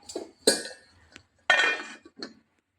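A metal lid goes onto a pot of Kottayam and Pathanamthitta style fish curry in a few sharp, close clinks and clatters, with short quiet gaps between them.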